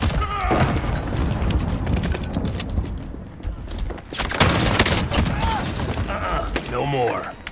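Dense gunfire in a Warzone Rebirth Payload match: rapid bursts and booming shots roll almost continuously, with a brief lull near the middle before the firing picks back up. Game voices and chatter sound underneath.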